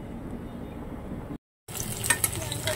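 Whole garlic cloves frying in a pan for loitta fish curry, a steady close sizzle broken by a brief gap before the frying resumes with louder crackles.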